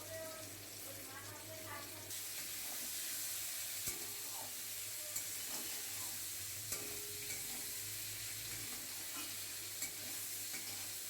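Grated ginger stirred into a pan of fish curry with potato and drumstick, a soft sizzle and scraping under a running background hum, with a few light knocks of the spoon.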